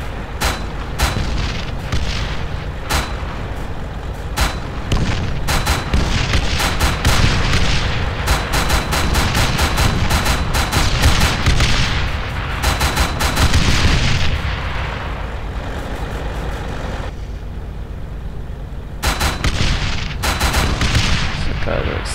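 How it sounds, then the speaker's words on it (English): Repeated booming launches from a 40mm grenade launcher in Arma 3, heard from outside the vehicle: a dense run of sharp, loud thumps and reports across the whole stretch, with a brief lull before a final cluster. "basically 40mm grenade launcher"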